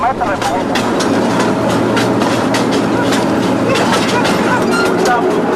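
Narrow-gauge railway timber wagon in motion, loud continuous rolling rumble with rhythmic clickety-clack of wheels over rail joints, heard from on board.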